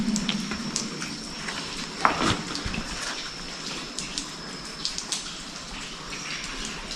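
Water trickling and splashing inside a cave at Cavinti, Laguna, Philippines, with scattered drips and a sharper splash near the middle over a steady wet hiss, fairly close, no talk.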